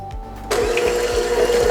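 An electric hand mixer switches on after a short quiet moment and beats eggs into oatmeal cookie batter at medium-low speed, giving a steady, close, loud motor whir with no talking.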